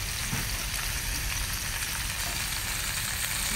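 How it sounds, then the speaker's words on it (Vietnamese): Mountain snails from Tây Ninh stir-fry in a hot pan, a dense, steady sizzle and crackle running loud and continuous throughout, with faint scraping of stirring underneath. "Rồi mình bỏ ốc vô mình xào"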